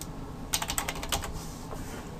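HTML code is typed on a computer keyboard, a quick close burst of about a dozen crisp key clicks followed by a few softer taps over faint room hum.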